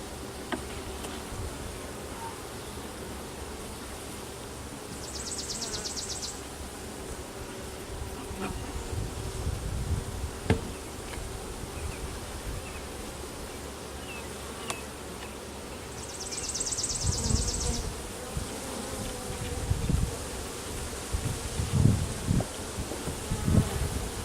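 Honey bees hum steadily at a beehive during an inspection, with a dense close buzz throughout and occasional louder passes and handling thumps near the hive.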